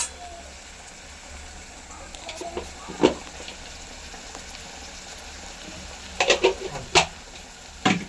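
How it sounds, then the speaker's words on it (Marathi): Spices frying in oil for egg bhurji give a soft, steady sizzle with a few clinks and stirring scrapes against the pan, grouped mostly near the end. "तर हे आपल्याला मसाले सगळे तेलामध्ये फ्राय करतो"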